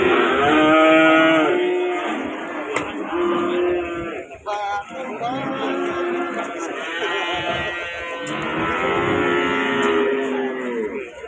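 Cattle at a livestock market moo loudly and repeatedly, several long drawn-out calls close by, with some faint background activity between them.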